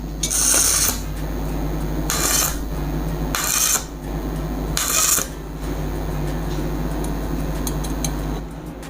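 A Shakti Technology all-in-one 400 amp welding machine arc-welds steel at a high current setting, giving four loud crackling bursts about a second long, separated by quieter gaps over a low steady electrical hum.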